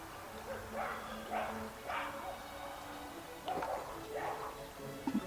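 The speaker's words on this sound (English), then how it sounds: "the neighbour's dog barking at that person" A neighbour's dog barks at a passer-by at some distance, giving several short bursts of yapping spread across the stretch, with quiet talk in the background.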